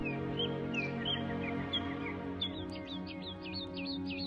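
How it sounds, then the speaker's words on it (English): Birds chirp and whistle in quick repeated notes, rising into a rapid series of calls, over a steady low hum. "The birds of the air."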